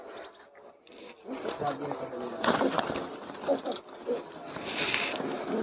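A 15-year-old prize-winning pigeon coos in a loft, its low soft calls mixed with rustling, scraping noises and nearby voices.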